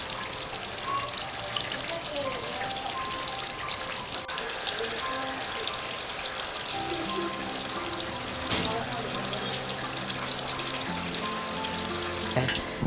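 Tomato sauce for mbika cooks in a pot with a steady bubbling sizzle and scattered small pops running throughout, fairly close and even in level, with no talk over it.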